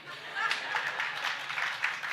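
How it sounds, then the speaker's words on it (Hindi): An audience at a Jain religious discourse (pravachan) breaks into applause, producing a dense patter of clapping that holds fairly evenly across the moment. "कितनी ताली बजी देखो तो दिल से"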